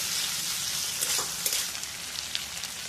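Spices, including whole cumin, coriander, dried chilli and ginger, are stir-fried in a pan for a cabbage dish with radish and carrot: a dense, close, continuous sizzle with a few brief scraping stirs, and no talking.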